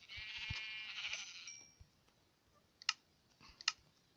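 A sheep in Minecraft bleats in a long, wavering cry, followed by quiet gaps and a few sharp clicks.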